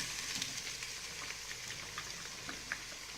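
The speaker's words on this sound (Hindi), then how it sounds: "तो इसी ऑयल में अब मैं प्याज फ्राई कर दूँगी" Chopped onions frying in oil in a pot for a Punjabi-style chicken biryani, giving a steady, soft sizzle with faint pops and crackles throughout, quiet and without voices.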